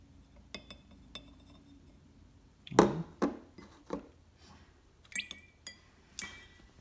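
An ice cube is dropped into a glass of water, landing with one sharp knock and splash, followed by several lighter clinks and drips against the glass in a quiet room.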